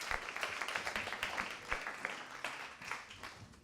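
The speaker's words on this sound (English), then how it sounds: "Let us give her a warm round of applause." An audience at an evening networking event applauds a speaker arriving to give a welcome address, producing soft, sustained clapping from many hands with a few sharper individual claps standing out.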